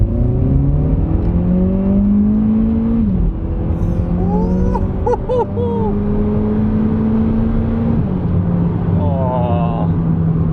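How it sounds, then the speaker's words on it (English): A turbocharged Seat Ibiza with a DSG gearbox accelerates hard, its engine note climbing steadily with crisp gear changes near 3 and 8 seconds, turbo whistle and whine layered over a loud continuous drone close by; a voice speaks briefly midway. "it's the gearbox and the turbo"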